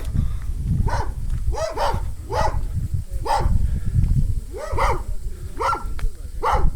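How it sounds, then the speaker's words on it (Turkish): Several dogs bark repeatedly at a middle distance in a rural village, sharp yaps coming in an irregular series over a low outdoor rumble. "Köpekleri görüyorsunuz."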